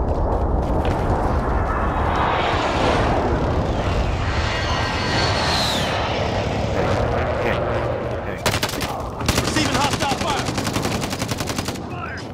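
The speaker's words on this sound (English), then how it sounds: "Enemy precision airstrike." An enemy precision airstrike in Call of Duty: Modern Warfare: a loud jet roar sweeps overhead, then heavy rapid bursts of explosions and gunfire follow, with voices under the din.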